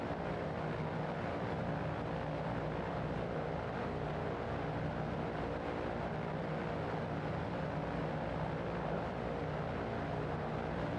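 Steady, loud drone of an airplane engine in a flight simulator game, a continuous broadband hum with no change across the whole stretch and no talking.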